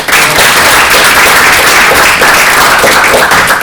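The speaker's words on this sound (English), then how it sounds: "applause." Loud, dense applause from an audience after an oncology lecture, an even continuous roar of clapping hands close by and alone, with no break.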